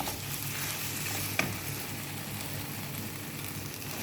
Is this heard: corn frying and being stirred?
yes